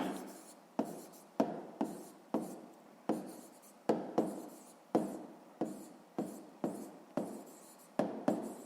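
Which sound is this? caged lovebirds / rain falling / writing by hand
writing by hand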